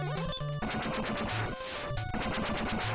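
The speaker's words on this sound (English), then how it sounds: "I still love that explosion sound." Crunchy retro video game explosions from Mega Man 6 burst over busy, bouncy chiptune music, with a descending noisy blast in the middle.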